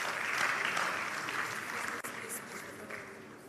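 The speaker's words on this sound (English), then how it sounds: "Round of applause," Sustained audience applause at a retail industry congress awards announcement, a dense steady wash of clapping that fills the whole stretch with a brief dip near the middle.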